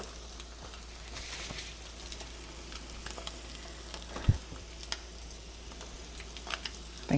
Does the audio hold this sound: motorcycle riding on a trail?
no